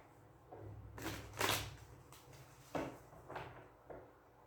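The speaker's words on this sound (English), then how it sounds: "One more shuffle, okay?" Tarot cards shuffled by hand in a quiet room, a series of soft riffling, slapping bursts, close and faint, spaced irregularly with short pauses between.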